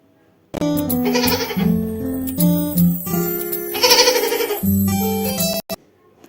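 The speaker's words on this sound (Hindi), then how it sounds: "G for goat." A goat bleats loudly several times in a row, wavering cries close by with short pauses between them and quiet at either end.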